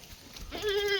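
A goat gives a single rising, quavering bleat close by, following a moment of quiet rustling.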